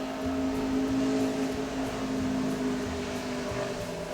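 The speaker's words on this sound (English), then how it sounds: "that's a motorcycle going down the freeway" A motorcycle travels along a freeway close to a home, its steady engine drone and hum filling the short span without pause, loud and continuous with no talk over it.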